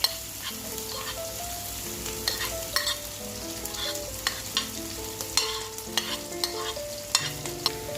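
Garlic and chilli sizzle steadily in hot coconut oil for fried rice, with a spatula scraping and tapping the pan every second or so. The sound is close and even, with no voices.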